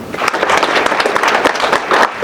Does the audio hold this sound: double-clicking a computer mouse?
no